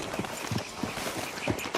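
Horse hooves clip-clop in a quick, uneven rhythm of soft thuds in the video game Red Dead Redemption, close and moderately loud with no talk over them.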